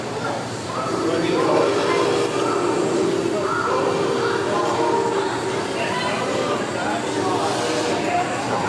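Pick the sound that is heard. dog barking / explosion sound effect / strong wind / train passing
train passing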